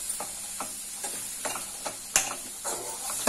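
Peanuts tossed with chaat masala in a pan, a steady scraping stir with a spoon repeating about every half second, plus light sizzling and a sharp clink near the middle, with no talking.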